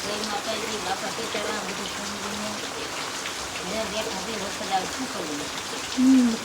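Steady rain pattering on a surface, a continuous hiss with a few faint bird-like calls and a brief bump near the end.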